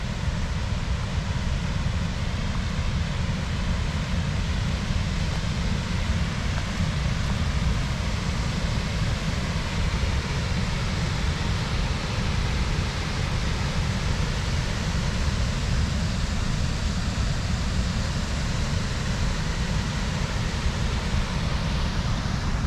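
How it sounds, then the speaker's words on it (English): A small roadside waterfall along backroads near Elk Garden, Virginia, pours in a steady, dense rush of water, unbroken and fairly loud throughout with no voices. "Would you look at that little waterfall?"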